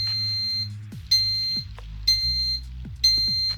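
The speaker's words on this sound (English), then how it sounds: "When the door is open, that will beep when you hit the power." A shrill electronic safety beep from a DIY UVC light device repeats roughly once a second while its door is open, loud and close, over a low mechanical hum.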